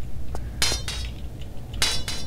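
A bird scratching with its claws in Tomb Raider IV, The Last Revelation, gives a few sharp metallic scrapes and clinks in quick pairs over a low rumble, close and fairly loud.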